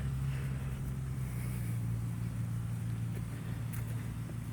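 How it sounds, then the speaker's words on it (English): A steady portable generator engine drone hums low and constant throughout at an off-grid camp, with faint wind noise and no talking. "that sound you're hearing is our generator."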